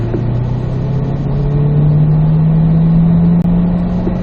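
A C8 Corvette accelerates down a hill on a race track, its mid-engine note droning loud and steady with a pitch that climbs slowly throughout, heard from close by.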